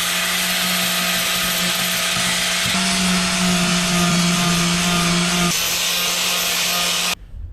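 An angle grinder works down welds on the car body of a VR6 project, a loud, continuous close-up grinding whine with shifting pitch for about seven seconds before it abruptly stops.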